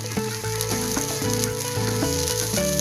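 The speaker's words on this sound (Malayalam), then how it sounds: "ഇനി നമുക്ക് തേങ്ങ വറുത്തെടുക്കാനുള്ള പരിപാടി നോക്കാം" Grated coconut roasting in a pan gives a steady sizzle with occasional stirring scrapes, loud and close, while melodic background music plays throughout.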